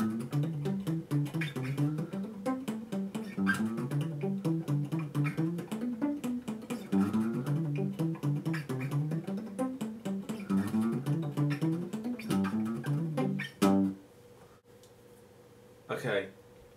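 A country guitar lick in G, built on a major pentatonic scale with an added minor third, runs off the root of each chord. Quick plucked notes play in a steady rhythm, close and clear, with no talking.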